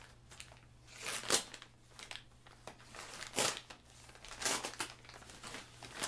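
Plastic packaging around a hoodie being cut open, with irregular crinkling and tearing rustles in short bursts, close and fairly quiet.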